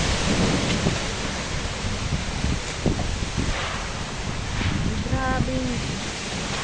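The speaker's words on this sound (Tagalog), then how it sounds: "patigilin nyo na po ang hangin ang lakas ng hangin" Strong typhoon wind roars steadily with rain pouring down, a constant loud storm wash with faint voices calling out beneath it.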